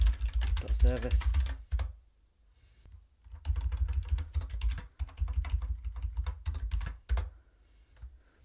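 Close computer keyboard typing of a terminal command, with quick bursts of key clicks separated by pauses while someone talks over the keystrokes.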